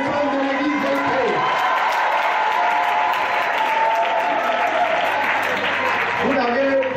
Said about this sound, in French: On acclame les femmes de l'église d'entrée.